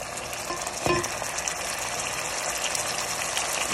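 Egg curry masala frying in a pan: a dense, steady hiss of sizzling oil and spices with one brief scrape or knock of a spoon near the start, close and unbroken, without speech.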